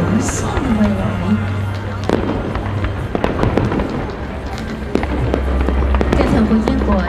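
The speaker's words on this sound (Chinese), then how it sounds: "2016的夜空，空中泰雷炸响，奔腾的艺术花火" New Year 2016 fireworks burst across the night sky in loud, dense crackling volleys and sharp bangs, with a steady low hum and distant crowd noise underneath throughout.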